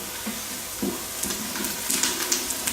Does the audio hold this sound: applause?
no